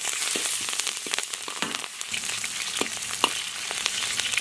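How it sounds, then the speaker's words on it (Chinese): Scallion, ginger and garlic dropped into hot oil in a wok give a close, steady frying sizzle with scattered crackles and pops and a few light stirring knocks, with no voices. "锅里倒油，下入葱姜蒜"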